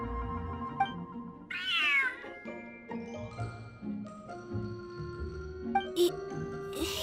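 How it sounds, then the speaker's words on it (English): A cat meows in a story-event video game scene, a clear rising cry near the two-second mark over steady background game music and sound effects. "Smart cat."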